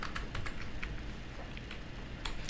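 Keys tapping on a stenotype keyboard while writing with Case Cat software, a quiet run of soft, irregular clicks in close succession, close by and without voices.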